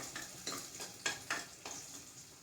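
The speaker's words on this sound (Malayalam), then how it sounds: "പച്ചമുളക് ഇട്ട് കൊടുത്തു ഒന്നും കൂടെ മൂത്ത് റെഡിയായി വരട്ടെ" Green chilies fry in a pan for ragi soup, giving a faint sizzle broken by several distinct stirring scrapes at a steady, unhurried rhythm.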